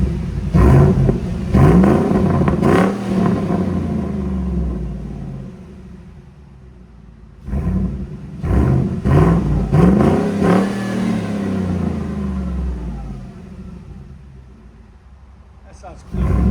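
A 6.2L V8 in a 2014 Ford Raptor with a Carven TR-Series exhaust roars and revs in bursts, dropping back to a rumbling idle between pushes, loud and close, with a voice talking over it at moments.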